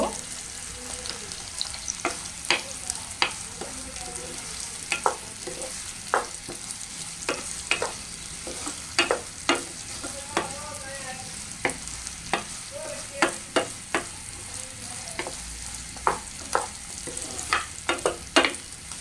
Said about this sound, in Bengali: আমি হচ্ছে এখন পেঁয়াজগুলো একটু হালকা করে বেজে নিব